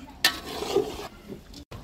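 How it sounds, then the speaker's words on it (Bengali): Rice being stirred in a cooking pot with meat during an outdoor picnic cook-up, a short scraping stir with sizzling, one sharp clatter near the start and a brief break near the end. "এখানে আমি চাউল দিয়ে ভালো করে নেড়ে চেড়ে নিচ্ছি যাতে পাতিলের নিচে না ধরে যায়"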